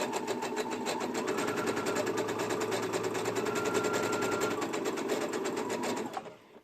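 A sewing machine runs steadily while stitching the neckline of a sunshine dress, a fast, even mechanical whir held at close range for about six seconds before stopping abruptly, with no talk over it.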